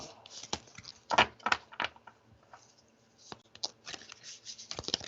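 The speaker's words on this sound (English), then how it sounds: "Shuffle, shuffle." Tarot cards being shuffled by hand: a close, quiet series of irregular riffling bursts and soft slaps, with short pauses between them.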